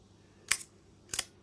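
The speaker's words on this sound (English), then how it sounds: "and then to fire the shutter" A 1947–1950 Voigtlander Vito 35mm folding camera, shutter set on B, gives two crisp mechanical clicks about half a second apart, close up and alone in a quiet room.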